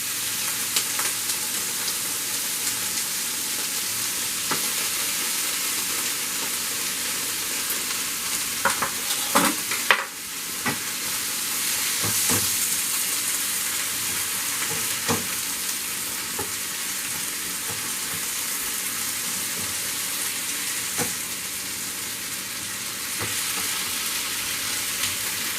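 Sweet and sour chicken with pineapple fries in a pan with a loud, continuous sizzle, while scattered utensil clicks and scrapes come from stirring.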